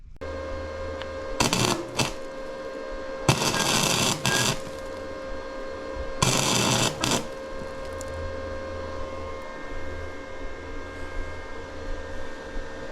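A welder is used to weld off a broken bolt on a Harley-Davidson Road Glide motorcycle, with three bursts of harsh crackling arc noise, each a second or so long, over a quiet background hum.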